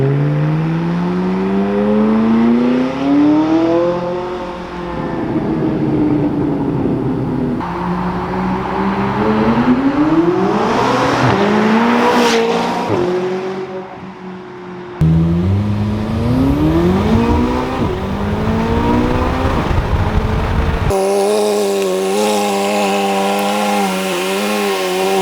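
A McLaren 570S with a titanium exhaust revs hard again and again, pitch climbing and falling in long sweeps, loud and raspy, across several separate pulls.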